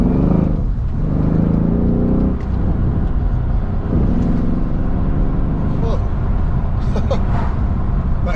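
A Mercedes E63s drives with a deep, steady engine drone and rumble, the note rising and easing as it accelerates, while someone talks inside the cabin over it.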